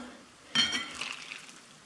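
A spoon stirs very-low-calorie diet meal powder, a pasta carbonara mix, into boiling water, starting with a sudden scraping swirl and continuing as a softer, rustling stir that tapers off.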